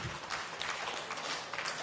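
Audience applause at a bishop's address, a quiet, continuous patter of many hands clapping, heard from some distance with no break.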